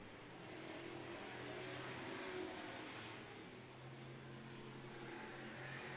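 Street stock race cars roar around the oval at Agassiz on the final lap, a steady dense engine drone with a broad wash of noise that swells slightly midway, heard from a distance and with no talk.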